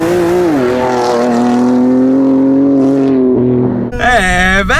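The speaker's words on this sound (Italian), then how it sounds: "Misureremo al millesimo di secondo lo 0-100" Sports car, either an M2 CS or an A45 S, launches hard from standstill on a closed road for a 0-100 km/h run, its engine rising in a loud sustained roar before a sharp gearshift and renewed climb.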